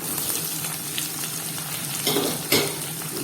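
Sliced onion, green chillies and curry leaves fry with ginger in a pan for a fish curry, giving a steady, moderately loud sizzle with a couple of brief bursts of crackle and stirring.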